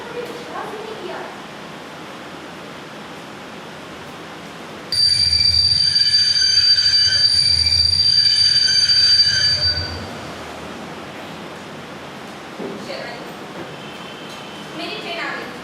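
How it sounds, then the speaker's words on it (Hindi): A train pulls in with loud, sustained high-pitched wheel squeal lasting about five seconds over a rumbling rail background, then fading to quieter ambient noise. "मेरी ट्रेन आ गई"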